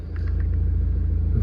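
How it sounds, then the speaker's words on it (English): The 2.0-litre diesel engine of a BMW 420d M Sport xDrive Gran Coupe with 115,000 miles catching and settling into a steady low idle, a close, loud, continuous rumble with no talking. "Just start the car up."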